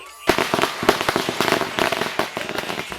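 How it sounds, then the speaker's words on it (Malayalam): Firecrackers set off for the Vishu festival crack in a rapid, irregular string of sharp, close bangs and pops that keep going without a pause. "വിഷുക്കാലല്ലേ, പടക്കം പൊട്ടിക്കൽ തുടങ്ങി."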